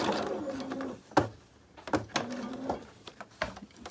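A sewing machine edge-stitches a pants pocket in short bursts of mechanical whirring, separated by pauses and a few sharp clicks, with a quiet voice talking at times.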